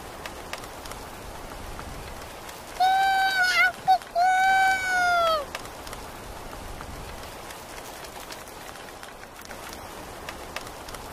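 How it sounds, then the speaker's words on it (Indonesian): Steady rain pours down outdoors for the whole stretch, a dense even hiss, while a high voice rises briefly above it in the middle. "kok kamu mandi hujan sih"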